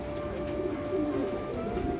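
Pigeons at a West Bengal pigeon farm coo in low, continuous, overlapping calls that swell and fade, close by against a steady background hum.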